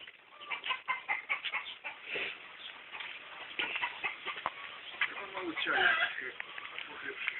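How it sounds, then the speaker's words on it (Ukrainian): Several chickens cluck and squawk repeatedly at a moderate distance in a village yard, busy and overlapping, while a person talks over them now and then. "Там куриці. Орут."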